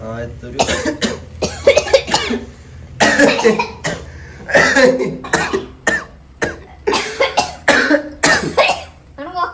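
A person coughs repeatedly while cooking curry in a home kitchen, with harsh, close, loud bursts coming in irregular clusters and voices talking in between.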